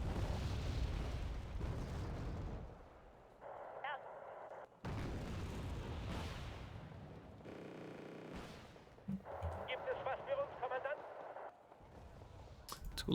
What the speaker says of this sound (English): Get another mortar.